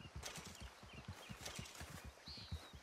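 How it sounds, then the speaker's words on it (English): A deer in the Red Dead Redemption 2 video game walks past, its hooves making a faint, even, rhythmic clip-clop of soft steps over a quiet outdoor background. "Just a deer coming by."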